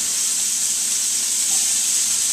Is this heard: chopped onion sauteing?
yes